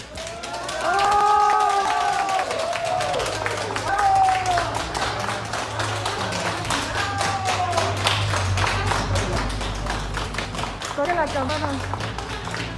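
Hospital staff applaud a recovered COVID-19 patient as he leaves, a steady patter of clapping mixed with crowd voices, cheering and vocal sounds throughout, fairly close and lively.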